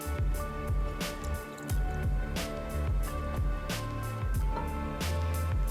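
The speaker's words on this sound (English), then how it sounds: "Then all we're gonna do is add about half of our blueberries" Blueberries tumble into a heated small saucepan on medium to medium-low heat, making a rapid series of soft, close plops and wet squishes in an uneven rhythm.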